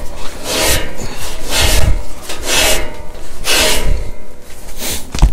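A V-belt on a Wood-Mizer LT70 sawmill band wheel is rubbed clean under pressure, producing loud, close, rhythmic scraping strokes in a steady back-and-forth pattern with no talk.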